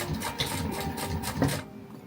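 A sewing machine top-stitches a glasses case made from watercolour magpie fabric, running in a quick steady buzz for under two seconds before stopping.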